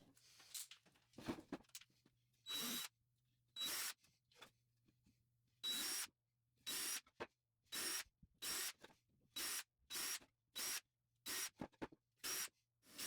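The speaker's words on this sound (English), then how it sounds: "I'm drilling pilot holes for my dowels" Short bursts of a power drill boring pilot holes in wood, a dozen or so quick runs separated by pauses, fairly quiet and close, with faint background sounds between.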